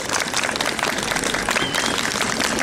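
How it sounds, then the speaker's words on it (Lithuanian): Audience applause at the opening of a theatre festival in Kaišiadorys, a dense, steady wash of many hands clapping close by, sustained throughout with no pauses. "Plojimais."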